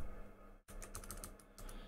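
Someone types a command on a computer keyboard with quick, close-up key clicks in short bursts after a brief pause, with no talking over them.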